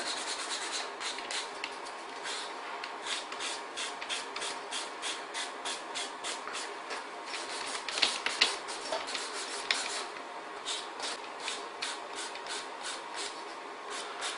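A GSV nail station's built-in suction runs steadily as a nail is worked at the station: a continuous airy whoosh with rapid rough scraping, similar to filing, and a few louder knocks partway through. Nobody speaks.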